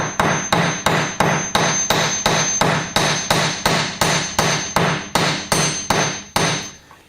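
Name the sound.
hammer flattening steel bracelet ends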